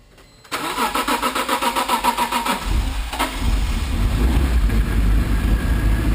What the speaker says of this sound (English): So if we start the car now, it's actually really quiet.